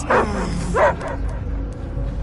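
A dog barks in the Guardians of the Galaxy video game, two short, close yelping barks over a steady low game ambience.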